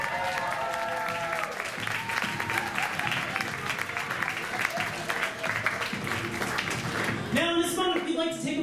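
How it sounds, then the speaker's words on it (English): An audience applauds steadily for the two candidates in a dense, continuous wash of clapping that tapers off near the end as a voice comes in. "Please give them a round of applause."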